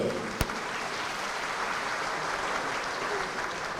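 A crowd at a housing key handover ceremony for families who lost their homes claps steadily in a broad, even wash of applause, with one sharp knock near the start.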